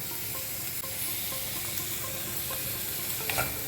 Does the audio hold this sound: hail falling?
no